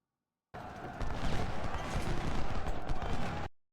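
Artillery and gunfire from Ultimate General: Civil War, a sustained dense roar of overlapping booms and rumbling blasts that starts abruptly and holds steady loud for about three seconds before cutting off.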